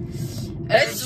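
A single short sneeze bursts out near the end, loud and close, after a stretch of low background murmur.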